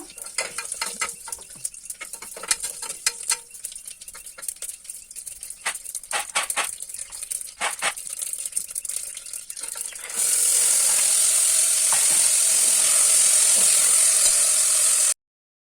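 Mustard seeds and curry leaves crackle in hot oil, scattered popping and spatula rattles at first, then a sudden loud, steady close hiss of frying with no voices.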